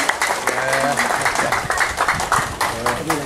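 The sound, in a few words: audience applause welcoming a guest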